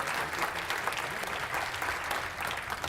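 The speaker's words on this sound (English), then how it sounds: "Round of applause for these officers." A luncheon audience claps for police officers, bright dense applause from a roomful of people, steady and fairly loud for the full three seconds.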